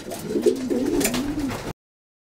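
Racing pigeons at a loft after a 900 km Chihuahua race give a close, soft rolling coo that rises and falls over a low hum, then cuts off.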